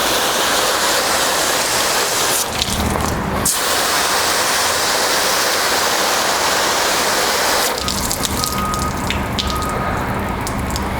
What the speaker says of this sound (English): Let's put the water on it and see